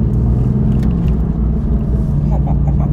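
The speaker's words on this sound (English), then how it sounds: "could you hear the sound of the engine? Beautiful." A car engine roars loudly nearby in a deafening, steady rumble with slight revving, while a person talks over it.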